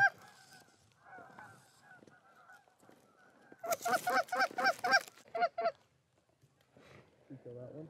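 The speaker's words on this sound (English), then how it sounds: "There's more geese coming." A flock of geese honks loudly overhead on a goose hunt, bursts of repeated rapid honks rising in the middle, with fainter calls before and after and people talking nearby.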